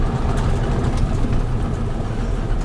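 Fiat 682 truck diesel engine running with a steady, loud, low rumbling drone throughout, no distinct rev peak standing out and no voices.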